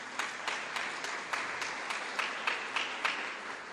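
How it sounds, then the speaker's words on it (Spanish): An audience at a church gathering claps in applause, a steady wash of many hands with rhythmic group clapping swelling in regular beats, fairly distant and reverberant. "z Plaza, nuestro presidente de la Dimensión, para el cual en este día también pedimos un fuerte aplauso."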